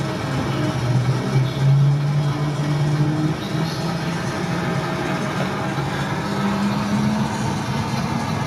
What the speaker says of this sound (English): got some street noise.